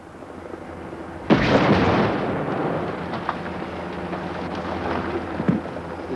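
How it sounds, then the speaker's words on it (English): A film special-effect explosion set off at a mine goes off with a sudden loud boom, then a long rumbling, crackling tail of debris fading slowly over a low background hum. "the time bomb explodes and creates a very spectacular explosion"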